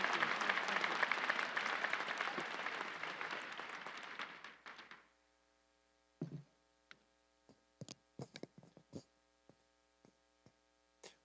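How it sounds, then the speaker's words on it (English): A dense burst of audience applause fills the first few seconds, then fades out, leaving a low hum and scattered faint knocks and shuffles. "Let's give her another round of applause for that excellent talk"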